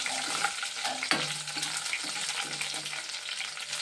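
Curry leaves fry in a pan of hot oil, a steady close crackling sizzle with a sharp burst of spitting as the leaves hit, then continuing busy frying throughout.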